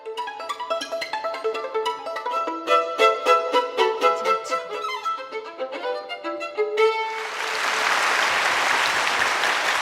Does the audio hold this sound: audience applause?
yes